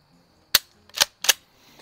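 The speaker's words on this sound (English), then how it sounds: "These are 22 quiets, so they're very, very light hitting" A Savage model 29A pump-action .22 LR rifle fires three light, quiet rounds at a range, sharp close snaps spaced about half a second apart with nothing else heard.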